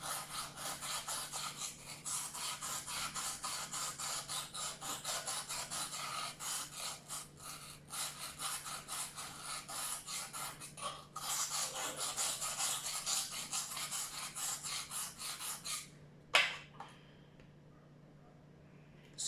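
A knife is stroked back and forth on a cheap $2 whetstone, making repeated close, gritty scraping rubs in an uneven rhythm that stop near the end, leaving quiet.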